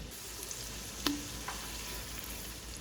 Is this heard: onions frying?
yes